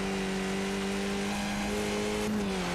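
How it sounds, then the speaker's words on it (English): Race cars at speed on a circuit, flying over a chicane, engines holding a steady loud drone with a brief shift in pitch near the end as they accelerate past. "You can never get tired of watching these cars fly over that chicane."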